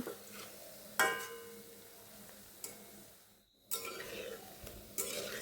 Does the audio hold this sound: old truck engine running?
no